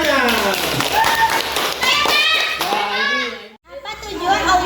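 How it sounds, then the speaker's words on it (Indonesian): Children in an Indonesian classroom clap their hands in quick, ragged bursts of taps, close and loud, with young voices chattering and calling out over the clapping and a brief pause near the end. "Tepuk tangannya, tepuk tangannya."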